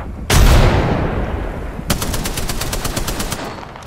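Video game gunfire in a competitive match, a burst of close, loud rapid shots followed by a sustained stream of fast automatic fire, with no talking over it.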